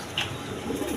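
A red and white pigeon coos close by, a short low throaty call rising over a soft murmur of other birds in a loft.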